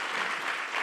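Audience clapping at a talk with Brandi Chastain, a brief dense patter of applause heard alone.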